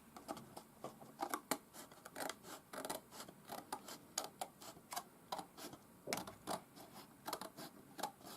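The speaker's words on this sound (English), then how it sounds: "Might go back with my smaller scissors now." Small scissors snipping through cardboard from a cat box, a quick run of close, crisp clicks and cuts coming in irregular bursts, quiet and alone.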